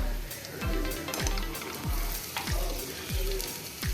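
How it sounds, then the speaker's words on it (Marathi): Vegetables sautéing in a pan for sweet corn masala pulao, a steady close sizzle broken by regular dull stirring scrapes about every half second, with no talking. "आता हे आपण थोडंसं परतून घेऊया आता आपण ह्याच्यामध्ये ह्या सगळ्या भाज्या घालूया"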